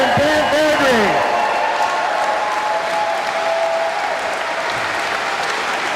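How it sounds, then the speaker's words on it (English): Sustained audience applause at a political campaign rally for Derek Sloan in Banff, a dense steady wash of clapping from a crowd throughout, with a speaker's voice sliding over it at the start. "Let's give another big round of applause to Derek Sloan running here, right here in Banff."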